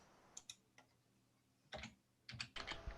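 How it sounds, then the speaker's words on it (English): Quick keyboard typing heard in a few brief, faint clusters of clicks separated by quiet gaps, with low room hum underneath and no talking. "I could hear somebody typing quick then"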